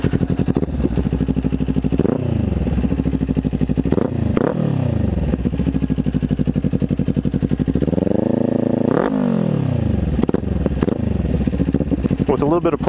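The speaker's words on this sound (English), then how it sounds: "with a little bit of playing around, I can get it to backfire on command" A Kawasaki Ninja 400 motorcycle fitted with a new exhaust revs up and down repeatedly close by, with sharp popping backfires between the revs and a voice briefly audible.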